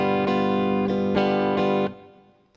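A G dominant 7th chord on an acoustic guitar, strummed four times in an even rhythm, close and ringing, then left to fade, with no talking.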